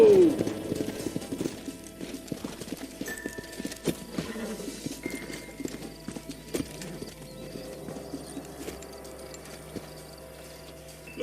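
Horse hooves clip-clop steadily in Red Dead Redemption, riders approaching and slowing. The rhythmic hoof beats run close and clear from the start, with a brief whinny, and gradually thin out toward the end.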